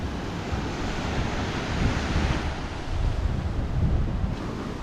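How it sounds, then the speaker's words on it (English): Ocean surf at a sheltered bay beach in Galle, Sri Lanka, a steady washing roar of waves with gusty wind buffeting the microphone, swelling slightly in two places. "Another beach."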